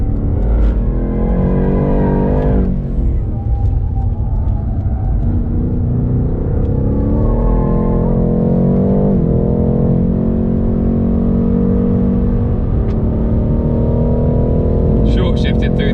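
BMW M8 Competition engine lapping Silverstone circuit, a loud continuous drone with rising and falling revs through gear shifts, steady in-car rumble throughout with faint voice-like traces.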